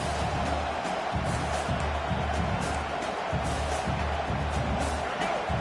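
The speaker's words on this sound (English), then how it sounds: "The roar of the crowd trying to fuel this defense to keep them pinned in their own end." Stadium crowd at a football game roars in a dense, steady wash of noise, loud and unbroken throughout, with no voices standing out from it.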